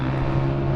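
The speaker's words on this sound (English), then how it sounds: "The motorbikes here are really loud." Loud, steady engine drone from motorbikes passing close by, a continuous low mechanical hum with no break across the moment.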